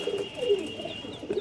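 Soft, low cooing from high flyer pigeons in a loft, a couple of short throaty calls close at hand over a faint steady hum.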